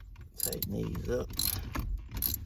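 A ratchet wrench tightens bolts during an ignition switch replacement on a car. It gives several quick bursts of close, quiet clicking with short gaps between them.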